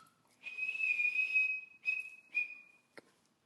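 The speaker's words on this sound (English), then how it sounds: "how can you whistle that high?" A person whistles a high, sustained tune alone, one long held note followed by two shorter bursts and a brief faint tap near the end, close and fairly quiet.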